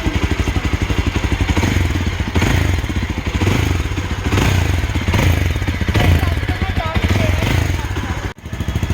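A Yezdi Adventure motorcycle idles with a loud, steady, thumping exhaust note, a rapid even pulse that rises in a few small revs, recorded close up with no talking.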